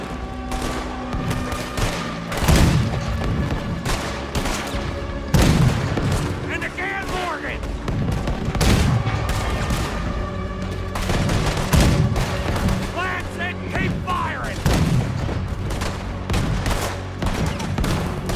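Repeated heavy cannon blasts boom amid continuous battle noise in the video game Red Dead Redemption 2, firing on a boat, with loud shots recurring every few seconds.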